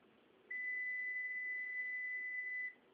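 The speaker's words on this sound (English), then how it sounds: "So I know this is the primary because it goes beep." An electrical continuity tester gives a single steady electronic beep, about two seconds long, while checking connected wires, sounding clearly over faint background hiss.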